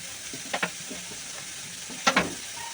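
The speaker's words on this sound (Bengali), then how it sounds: "বেগুন আর শিমটা আমি ভাজা ভাজা করে নিচ্ছি" Eggplant and beans fry in a pan with a steady soft sizzle, broken by two brief scraping stirs from a spatula, close and fairly quiet with no talking.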